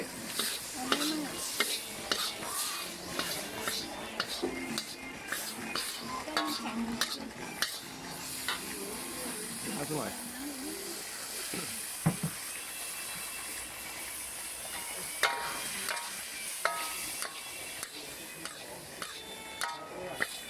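A metal utensil scrapes and clanks against an iron wok over the hissing sizzle of stir-frying noodles, with brief speech in between.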